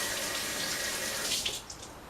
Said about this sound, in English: Now I want to rinse my hands quickly